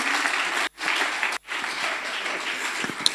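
An audience at a spring lecture applauds a guest speaker with dense, continuous clapping, broken by two brief dropouts before the sound resumes at a steady level.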